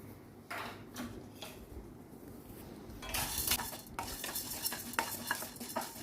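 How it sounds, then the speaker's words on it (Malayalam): Chana dal being dry roasted in a kadai for Palakkad-style idli podi, the dry lentils scraping and rattling against the metal under steady stirring, growing louder and busier midway through, with no talking. "അതേ ചീനച്ചട്ടിയിലോട്ട് തന്നെ നമ്മുടെ കടലപ്പരിപ്പ് ഒന്ന് നമുക്ക് വറുത്തെടുക്കും"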